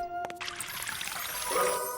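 Chilled bottled water pours into pudding in a steady trickling stream with a faint clink at the start, building slightly toward the end.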